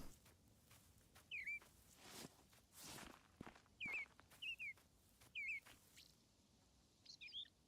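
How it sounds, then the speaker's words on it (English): Several short bird chirps and tweets ring out at intervals in a Rising World game landscape, faint and distant, over soft footsteps crunching along in an otherwise quiet scene. "Definitely some bird sounds though."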